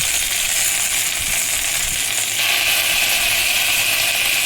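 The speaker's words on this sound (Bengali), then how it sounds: "কড়াতে একটু সর্ষের তেল দিয়ে দিলাম আর একটু কালো জিরে ফোড়ন দিয়ে দিলাম দিয়ে পুঁইশাকটা আমি তুলে দিচ্ছি" Malabar spinach fries in mustard oil tempered with nigella seeds in a wok, giving a steady, loud, close sizzle with a slight shift in tone midway and no talking.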